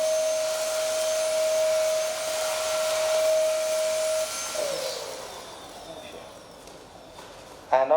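INGCO cordless vacuum cleaner running close by with a steady high whine that drops in pitch as it switches speed setting, then winds down, with someone talking over it.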